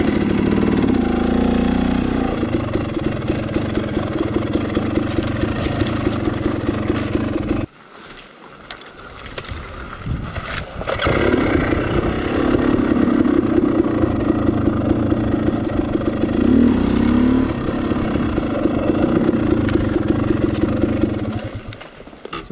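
A motorcycle engine drones steadily while riding along Troll Trail, briefly dropping away in the middle before rising again to a continuous, fairly loud run.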